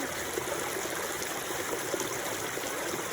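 Water from a tributary stream flows steadily in a continuous hissing trickle outdoors, close and unbroken throughout.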